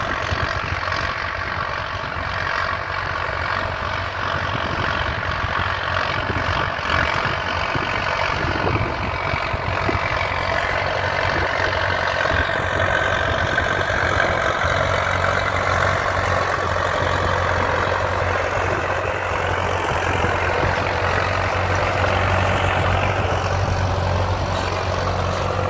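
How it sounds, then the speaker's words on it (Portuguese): A Valmet 880 tractor pulling a four-row Tatu planter while sowing corn gives off a continuous low diesel drone, steady and moderately loud throughout with a deep hum underneath and no talking. "o trator Valmet vindo aí, ó"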